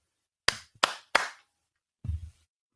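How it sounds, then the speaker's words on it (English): Three sharp hand claps ring out close by in quick succession, followed after a short pause by a softer muffled thump, with no talking. "But they got my clapping."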